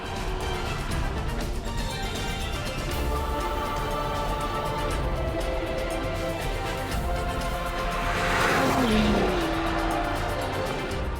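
Big car with an 8-speed ZF gearbox in dynamic mode accelerating and cornering, engine revving hard and rising through gears, with a brief tire squeal and swelling intensity near the end.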